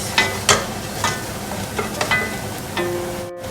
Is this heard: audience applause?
no